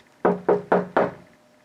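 Four evenly spaced knocks on a door in the video game Luigi's Mansion, close and loud, each ringing briefly before the next, then stopping.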